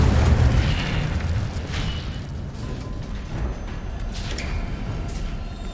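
An Incendio fire spell bursts in Hogwarts Legacy, a loud, deep boom that rumbles on as a sustained roar of low crackling, with a few brighter pops scattered across it and no talking.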